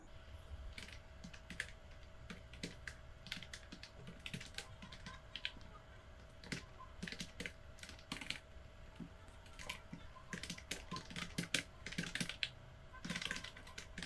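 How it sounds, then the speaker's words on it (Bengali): Quiet, rapid clicking of keys on a computer keyboard as names are typed, irregular bursts of keystrokes with short pauses running throughout. "নাম, পিতার নাম এবং মাতার নাম টাইপ করার পর"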